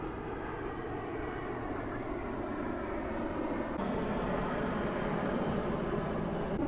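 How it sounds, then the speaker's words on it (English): A fixed-wing airplane drones overhead above a backyard, a steady broadband engine rumble holding at moderate distance and swelling slightly louder toward the end, with no talk over it. "Oh, there's a plane."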